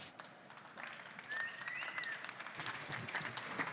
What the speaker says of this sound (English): So give them a big applause.